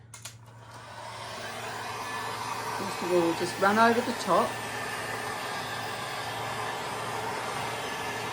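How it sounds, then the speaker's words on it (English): A heat gun is aimed over colour shift paste on a board, producing a steady, close blowing drone throughout. Someone speaks briefly over it partway through. "let's get busy with our heat gun"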